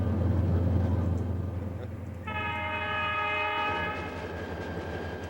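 Salad Bowl Express passenger train climbing toward the Continental Divide, a steady low rumble of wheels on rails with a multi-tone horn sounding for about two seconds midway, no voices.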